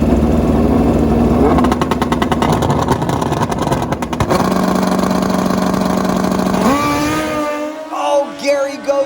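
Drag racing motorcycles, an old Kawasaki Z1 against a Hayabusa, roaring loudly at high revs with a buzzing multi-cylinder drone that shifts pitch and then drops away, as if passing or backing off near the end.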